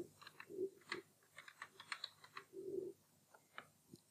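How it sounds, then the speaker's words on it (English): A computer keyboard being typed on, with a quick, irregular run of soft key clicks, quiet and close, and no voices. "tap the keyboard button on your keyboard and type in the word printer"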